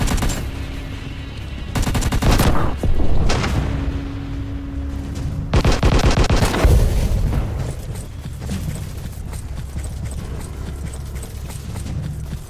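Gunfire in the mobile shooter Anti Terrorist Squad Shooting; several loud rapid automatic bursts, each a second or two long, separated by quieter gaps with a lingering low rumble.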